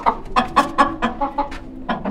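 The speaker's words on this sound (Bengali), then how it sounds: "এই যে এখানে দেখেন, এগুলো হচ্ছে টাইগার মুরগি" Tiger chickens on a small poultry farm clucking in a steady run of short, close calls, about eight distinct clucks over two seconds.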